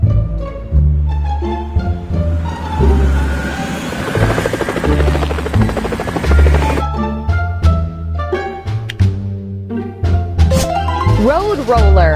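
A firefighting helicopter sound effect plays as a loud, rhythmic rotor chop and engine whir, mixed with tonal, music-like sounds.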